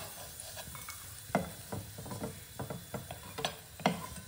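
Cashews and raisins fry in ghee with a soft, low sizzle, while light stirring taps and scrapes recur every half second or so, close but faint.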